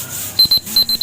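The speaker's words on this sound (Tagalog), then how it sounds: "Ay, wait lang, nag-alarm na." A close electronic alarm going off, a loud series of short beeps in quick pairs, sharp and repetitive.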